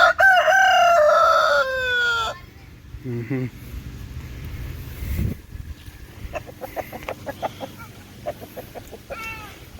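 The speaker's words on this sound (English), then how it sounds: "He's a good rooster." A rooster crows loudly up close, then a series of short rhythmic clucks follow amid quieter background sounds.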